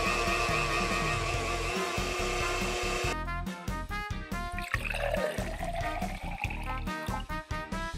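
A blender in a video game whirs as it blends yogurt, a persimmon and olive oil into a drink, a dense buzzing under loud, steady game music.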